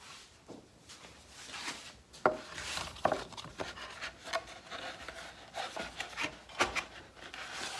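A PVC pipe is pushed and worked into a freshly cut hole in a dust collector cyclone lid, giving faint, close rubbing and scraping with irregular knocks and scuffs.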